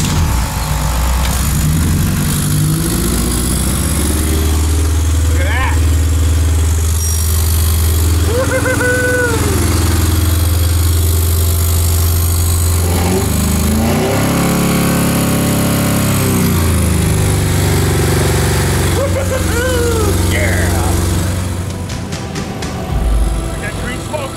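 A Honda K24 engine runs close by with the radiator only partly hooked up, settling into a steady idle punctuated by several sharp revs rising and falling. Someone speaks briefly over the engine noise.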